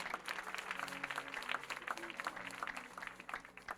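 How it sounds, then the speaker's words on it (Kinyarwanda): A church congregation at a prayer service claps in thanks to God, a faint, busy patter of many hands with some rhythmic structure, distant and continuous, with faint voices mixed in. "dukomere Imana amashyi menshi."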